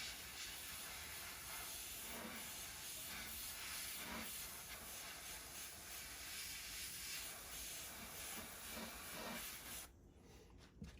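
An airbrush sprays a darker brown paint over the feathers of a flocked speckle-bellied goose decoy, giving a steady, close hiss that runs almost unbroken and cuts off near the end.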